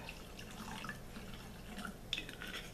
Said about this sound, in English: I'm going to pour in a half a cup of apple cider vinegar